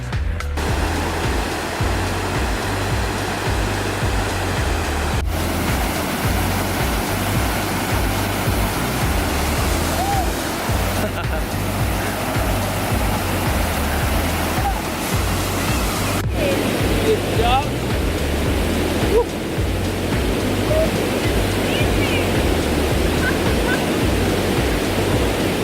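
A waterfall at a trail crossing on the Annapurna Circuit pours and rushes as a loud, steady broadband roar, near and unbroken, with a few faint knocks on top and no clear talk.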